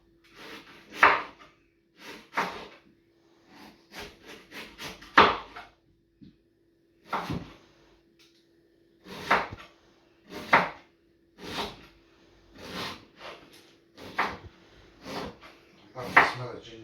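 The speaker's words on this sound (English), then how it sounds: "So you just want to slice it up nice and small." A knife slices fresh ginger into small pieces on a cutting board, giving sharp, separate chops at irregular intervals, sometimes in quick pairs, close by over a faint steady hum.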